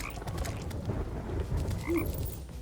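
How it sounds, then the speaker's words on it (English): Frogs croak in the sulfur biome of modded Terraria, with a steady low rasping chorus running throughout and a brief higher call near the end. "Let's start trying to take out these frogs then, huh?"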